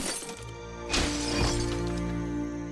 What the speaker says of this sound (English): You shouldn't worry about smashing up the box.